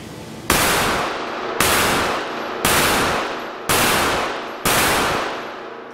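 A Tisas Regent BR9 pistol fires five evenly spaced, sharp, loud shots, each cracking hard and then trailing off into a decaying ring out on the range, with no talking.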